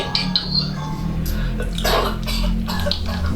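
An elderly grandfather coughs several times in close, loud bursts, harsh and throaty, with brief pauses between them.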